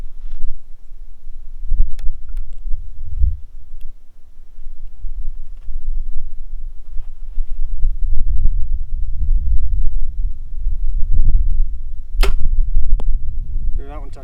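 Arrows are shot at archery practice and strike a target, with several sharp snapping impacts spread out over a steady low outdoor rumble, and two come close together near the end.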